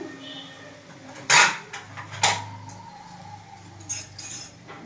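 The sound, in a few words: stirring spices in a cooking pot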